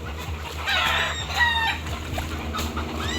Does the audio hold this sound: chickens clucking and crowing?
yes